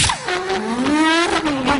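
A man vocally imitates a racing car skidding, his voice producing a sustained squealing, sliding whine with gliding tonal pitch for about two seconds, loud and continuous without words.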